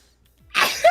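A single sharp human sneeze bursts out abruptly after near silence, close and loud.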